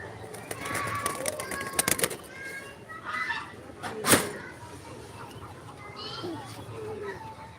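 A handful of pigeons, around five, coo and flutter close by in short bursts while people talk over them.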